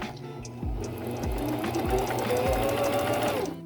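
Sewing machine stitching sock fabric with a steady rapid mechanical whir and regular thumps, loud and close, running alone without talk.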